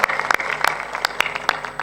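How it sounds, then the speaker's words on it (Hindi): An audience in a pandal pavilion at a spiritual discourse gives brief, scattered applause, with a handful of distinct claps landing unevenly over a short stretch. "ऐसी ताली मारो पंडाल में छेद हो जाए।"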